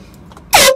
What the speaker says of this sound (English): we're gonna do the same thing, but we're using 2 air horns instead of 1